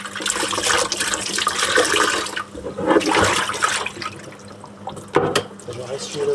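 A washing machine fills with water in a steady, fairly loud rush and splash that dips briefly midway and again near the end.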